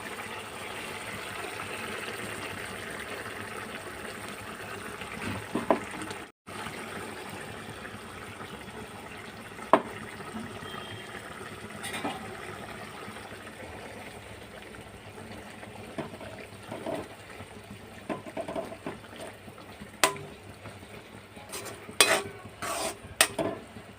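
A green paste of amaranth stalks is stirred through a pan on the stove, with a steady sizzle under scraping and clinks of a spoon against the metal. The clinks get sharper and more frequent toward the end.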